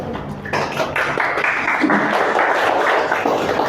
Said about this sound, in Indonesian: tepuk tangan buat Dani